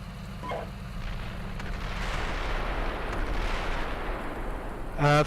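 Artillery fire mission in the tank simulator Steel Beasts Pro PE 4.1, a continuous deep rumbling roar of distant barrages throughout, with a sharper burst at the end.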